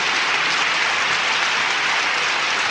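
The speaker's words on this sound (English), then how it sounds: "Big round of applause for Mom." Studio audience applause, a dense, even roar of clapping from a crowd, loud and continuous with no talk over it.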